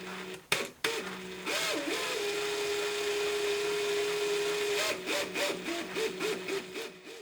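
Small gear pump running in reverse with its inlet tube pinched, a steady high whine under sharp clicks at the start, then warbling, pulsing tones as the load changes near the end.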